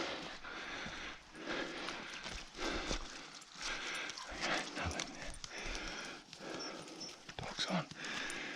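A hunting dog moves close by on a quail hunt, with rustling, panting and scuffling through brush alongside faint whimpers, and people talking softly in the background.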